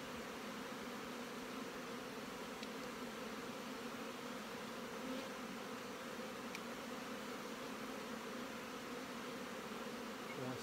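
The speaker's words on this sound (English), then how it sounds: "those bees are already moving up to cover that brood." Honeybees at an open hive during queen cell builder setup, a dense, steady buzzing swarm close by, continuous and even throughout with no talk.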